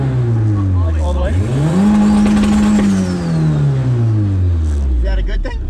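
Turbocharged Honda Civic running about 12 psi of boost, engine revving hard at wide open throttle, rising in pitch then holding and falling, loud and close with voices speaking over it.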